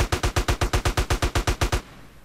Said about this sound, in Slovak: Takže mám začať strieľať.